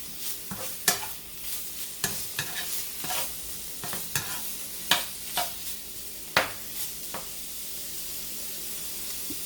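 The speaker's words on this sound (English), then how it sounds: "So we're just going to stir this." Sausage and cabbage stirred in a skillet, with a gentle sizzle under repeated scraping and clacking strokes of a utensil at an uneven pace, close and fairly quiet.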